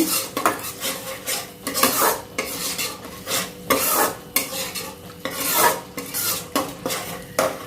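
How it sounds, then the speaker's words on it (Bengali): A utensil stirs a fried spice mix in a pan, scraping rhythmically against the metal in repeated strokes, with a soft sizzle underneath and no voices. "ভাজা মশলাটা দিয়ে একটু নাড়িয়ে চাড়িয়ে নেব।"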